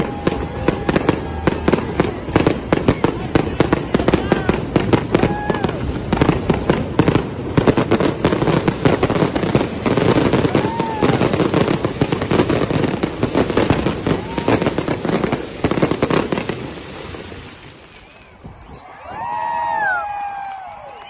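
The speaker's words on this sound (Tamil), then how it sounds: "வேகமாக படப்படப்படன்னு வெடிக்க ஆரம்பிச்சிச்சு" Rapid, dense Independence Day fireworks in the United States crackle and bang in a continuous loud barrage, then stop abruptly, leaving distant whistles and a few pops.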